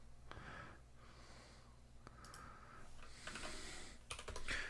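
Fingers tapping a computer keyboard, quiet close clicks in short bursts with pauses between, plus a faint breath or sniff, no talk.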